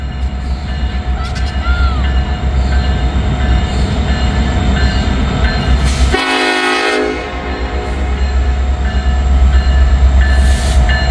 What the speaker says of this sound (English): I think we finally have a NS train